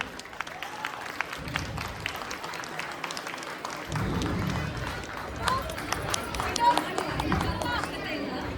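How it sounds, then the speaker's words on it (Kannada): An audience bursts into loud, sustained applause at a stage play performance, the clapping swelling midway and continuing as a dense crowd wash with faint background chatter. "ಜೋರಾಗಿ ಚಪ್ಪಾಳೆ."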